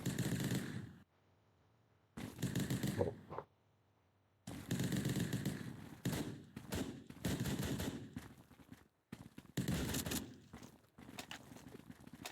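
Gunfire from the top-down shooter video game SWAT God comes in loud, sharp bursts of rapid shots separated by short silent gaps, with some clusters of fast repeated fire and no talking.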